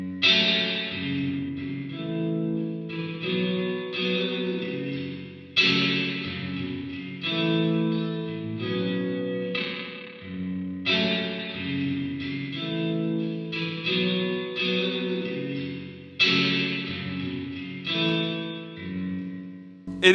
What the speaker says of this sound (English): So if I put the mix on maximum